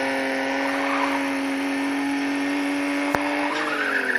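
A car in a racing video game drifts and spins after a handbrake pull, its steady engine tone holding under tire squeal, with a sharp click and the note shifting near the end.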